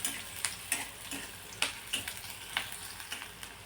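Chopped onion and chili pieces fry in a pan for a tandulja leaf vegetable dish, giving a soft steady sizzle broken by scattered sharp pops and crackles, close and alone with no talk.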